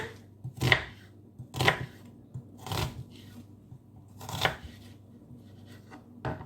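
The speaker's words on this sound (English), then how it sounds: "Now let's chop the onion." An onion is chopped with a knife, making four or five sharp, widely spaced board thuds under a low steady background hum, with no talking.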